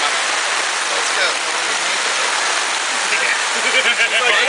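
Heavy rain pours down on a tent, a dense, loud, unbroken hiss throughout, with voices faintly audible beneath the downpour.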